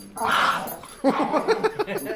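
A dog whimpers and yips during indoor play, a long whine followed by a run of short, close, rhythmic yelps and grunts.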